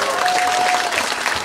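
An audience at a live anniversary concert applauds a singer, with dense, steady clapping and faint crowd noise filling the whole moment.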